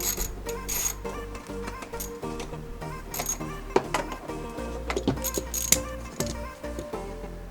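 A wrench works a 10 mm bolt and nut loose on a Can-Am Outlander 850 XMR ATV during an oil change, making close metallic clinks and ratcheting clicks with occasional sharper taps. No one speaks.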